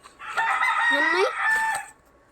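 A chicken rooster crows once, loud and close, in a single drawn-out call with a rising, strained middle note and a quick fade at the end.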